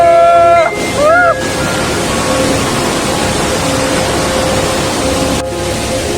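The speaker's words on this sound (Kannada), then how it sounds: "ಕಾಣಿಸ್ತಿರೋದು ಎರ್ಮೈ ಫಾಲ್ಸ್" Ermai Falls in the Western Ghats near Ujire gives off a continuous broadband roar of falling water, opening with a few brief tonal chirps and then running steady and unbroken.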